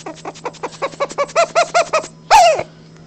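A hand-held squirrel call imitating a fox squirrel bark with its sound fully covered, giving a rapid run of muffled chattering barks that builds and speeds up, followed by one longer squealing note, close and with no talking.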